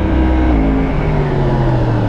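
A 2017 Yamaha YZF-R1 sport motorcycle accelerates hard, its engine roaring loud and close with a rising, shifting pitch and a dense rumbling exhaust tone throughout.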